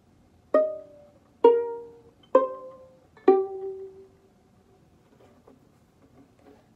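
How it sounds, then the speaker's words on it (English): A violin plays regular pizzicato in the trio section of an orchestral piece, four clean plucked notes at an even, unhurried pace, each ringing and decaying alone, followed by a few faint soft plucks. "There's regular pizzicato in the trio,"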